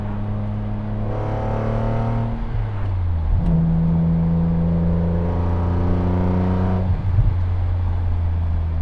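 A 2005 M car engine idles with a low drone, then revs up sharply and holds a higher pitch before dropping back and swelling again, loud and close with no talk over it.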